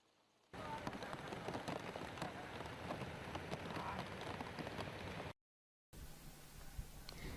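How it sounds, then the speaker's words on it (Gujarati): Heavy rain pours across Saurashtra in a steady, dense hiss of drops striking surfaces. It is broken by a brief silent gap before resuming. "સમગ્ર સૌરાષ્ટ્રમાં એટલો અનરાધાર વરસાદ વરસ્યો"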